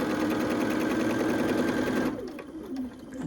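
Sewing machine stitching quilt pieces, a close steady needle whir for about two seconds before it stops, followed by quieter handling sounds.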